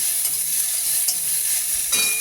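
Chicken with tomato frying in a pan, a constant bright sizzle held at an even, moderately loud level with a couple of faint stirring touches, no talk.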